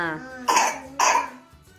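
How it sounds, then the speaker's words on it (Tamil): A child with a cold and mucus coughs twice in quick succession, two harsh, chesty bursts close by, after a brief voice at the start and with quiet breathing around them. "இப்படி இருமுற பாரு"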